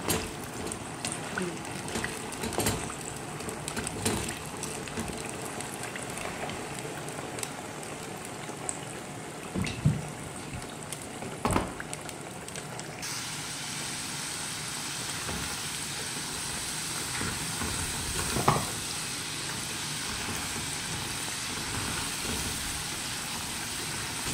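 Potatoes fry in hot cooking oil, producing a steady broadband sizzle throughout with occasional clatters and bumps, and the hiss turns brighter and denser partway through.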